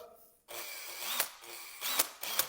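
A tool working against a stuck screw, grinding ratchet-like bursts with a few sharp clicking peaks, close and moderately loud after a quiet start.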